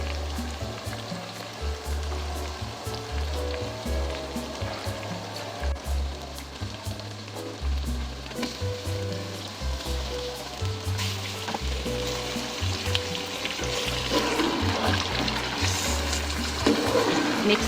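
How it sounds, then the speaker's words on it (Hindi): Chicken pieces sizzle in a pan of cooked tomatoes for a biryani, a loud, crackling fry that swells and continues throughout, with no voices. "अब इसमें मैं चिकन डाल दूंगी।"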